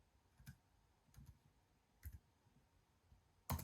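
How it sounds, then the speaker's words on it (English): Keys clicking on an Apple MacBook keyboard as a password is entered, a few soft, spaced taps in small clusters followed by one sharper, louder key press at the end, close and quiet with no talking. "I'm going to put my new password in now."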